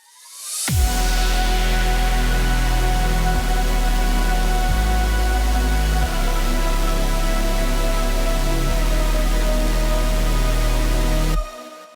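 A loud, buzzy synthesizer sustains thick chords that shift every second or two over a deep bass, playing continuously before stopping abruptly.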